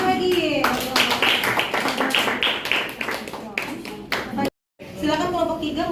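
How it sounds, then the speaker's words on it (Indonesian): Students clapping in a classroom after a group presentation, a short burst of many hands applauding with voices talking over and after it, then a brief silence. "Tepuk tangan lagi"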